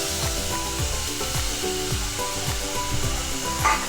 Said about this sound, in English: Now add tomatoes finely chopped